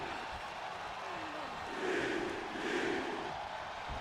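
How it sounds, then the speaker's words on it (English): A wrestling arena crowd at a WWE Raw match joins in a chant with Jey Uso's yeeting, two swelling waves of rhythmic crowd voices rising over a steady background roar. "And Jay Uso bringing the crowd into it with the yeeting."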